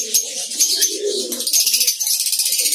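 Lovebirds in a breeding colony setup with nest boxes keep up a dense, shrill chatter of overlapping high chirps and calls, steady and close throughout.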